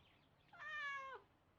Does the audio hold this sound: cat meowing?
yes